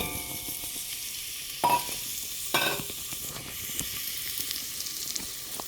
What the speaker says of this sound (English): From there, we're going to add our onions and our serrano pepper.